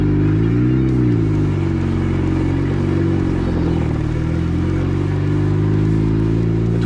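A turbocharged Honda Civic on racing slicks, with solid engine mounts and a stiff clutch, pulls away with a loud, close engine drone whose pitch wavers as the revs rise and dip, heard from inside the car, with no speech.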